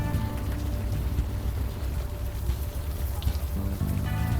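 Rain falls in a city street scene of the video game Unavowed, a faint, even wash of hiss with a low rumbling bed and no clear individual drops.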